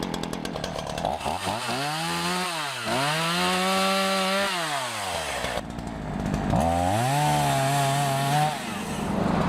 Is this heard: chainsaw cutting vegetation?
yes